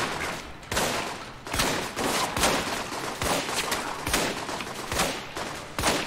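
Repeated gunfire from a shotgun in the video game Alpha Protocol, loud sharp blasts spaced irregularly about every second over a continuous background din.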